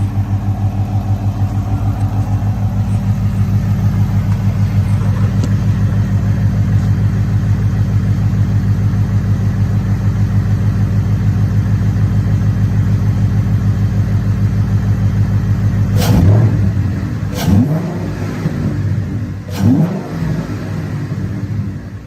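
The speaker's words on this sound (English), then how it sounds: "Get a couple of revs in." A 2015-2017 Ford Mustang GT engine with a JLT intake and SCT tune drones steadily at idle for a long stretch, then revs sharply a few times near the end, each burst rising and falling quickly.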